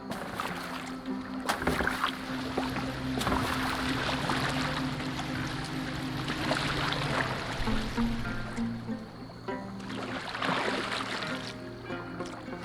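A boat moving through water in the video game Assassin's Creed Valhalla, with steady splashing and rushing water alongside a low sustained drone, interrupted by occasional sharper knocks and surges.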